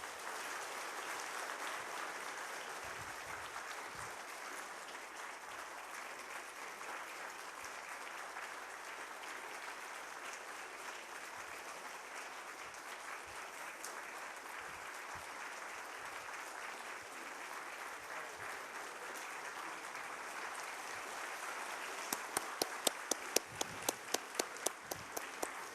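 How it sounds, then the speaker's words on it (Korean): A church congregation applauds during a Sunday worship service, a long, sustained wash of clapping heard from some distance in a large room, with a few sharper, closer claps standing out near the end. "뜨거운 박수로 축하해 주시면 감사하겠습니다"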